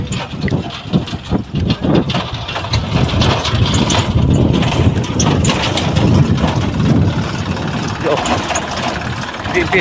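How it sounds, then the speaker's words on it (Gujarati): A tractor engine runs steadily in a field while spreading fertilizer, a rumbling, uneven chug, fairly loud and close, with voices talking over it. "જો આ રીતે ટ્રેક્ટર હાલે."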